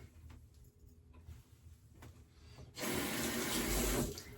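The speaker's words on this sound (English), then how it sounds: "I get my hands wet." Hands are wetted under a running bathroom tap: quiet handling noises first, then a loud steady gush of water starting partway through and continuing to the end, with no speech.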